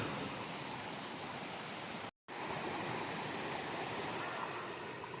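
Monsoon stream on a Sahyadri trek to Sagargad, a steady close rush of flowing water filling the clip, broken once by a brief dropout.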